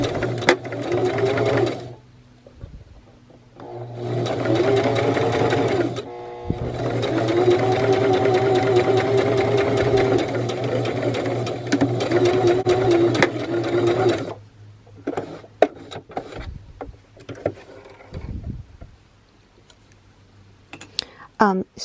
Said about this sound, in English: you can go ahead and sew the arm closed